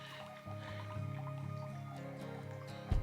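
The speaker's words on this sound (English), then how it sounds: "Sound of beautiful water." Water drips and trickles at a trail water source on the Arizona Trail, small plinks and a soft steady flow close by, with a louder splash near the end.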